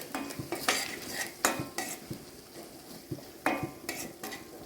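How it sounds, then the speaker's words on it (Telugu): Ginger garlic paste fries in a pan for a prawn curry while a utensil scrapes and stirs it, giving irregular clinks and scrapes over a soft sizzle, close and moderately loud with no talking. "ఇది కూడా కొంచెం అల్లం వెల్లిపాయ పేస్ట్ పచ్చి వాసన పోయేంత వరకు వేయించుకోవాలి"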